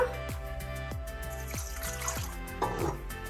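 Water trickling and dribbling into a bowl of yeast, a short pour at close range with soft liquid splashes, recorded while making Ethiopian-style pastry dough.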